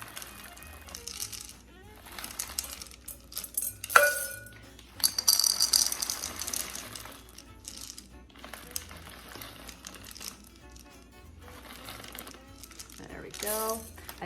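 Chocolate chips poured from a crinkly 300-gram bag while making no-bake fudge, giving bursts of crinkling plastic and light clinking rattles scattered through the clip, with quieter stretches between.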